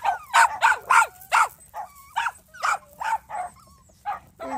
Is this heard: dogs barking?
yes